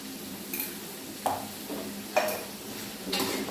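Chicken curry being stirred in a pot after salt goes in, with several distinct scraping strokes of a spoon against the metal over a soft background sizzle, close by, no speech.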